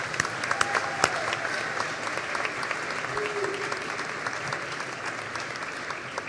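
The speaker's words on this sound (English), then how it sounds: "we owe them a round of applause to everyone who has staged these ceremonies" A graduation-ceremony audience applauds steadily and densely for the whole stretch, a broad wash of many hands in a large hall with no break or fade.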